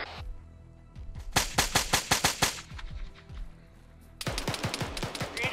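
A squad opens fire in the Arma 3 video game, rapid automatic rifle bursts crackling in fast volleys with a short lull between them, loud and close, then a dense final stretch of overlapping shots.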